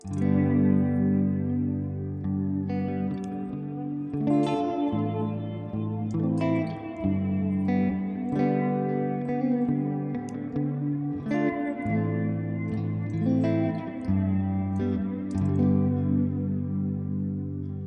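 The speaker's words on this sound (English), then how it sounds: "we've got a kind of plate reverb, but also on that reverb trail as well, we've got a bit of flange" Electric guitar chords ring through a Joyo Atmosphere reverb pedal's lush, washy plate reverb with a sweeping, swirling flange on the trails, playing continuously.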